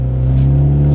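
A steady, loud engine drone with a strong low hum, held at a fairly constant pitch for a brief moment, close by.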